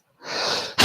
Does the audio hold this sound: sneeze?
yes